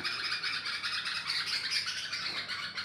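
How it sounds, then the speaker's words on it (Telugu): A pair of birds, one male and one female, squawking and chirping close by in a dense, continuous chatter of overlapping calls, with no talking. "ఈ పిట్ట, ఒకటి ఆడపిట్ట, ఒకటి మగ పిట్ట, 2 పిట్టలు వచ్చినాయి."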